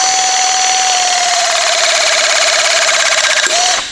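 A RapidAir ComPRESSed press tool pressing a fitting onto a one-inch pipe gives a loud, steady mechanical whine that holds for several seconds, then cuts off abruptly with a short drop in pitch as it stops.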